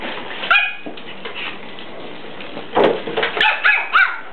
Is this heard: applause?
no